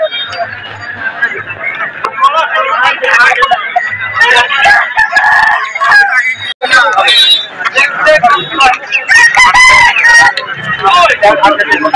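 Roosters crowing repeatedly at the Kharika poultry market, loud and close, over busy crowd chatter and people talking nearby.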